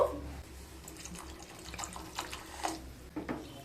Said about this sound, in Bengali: সামান্য জল দিয়ে দেব।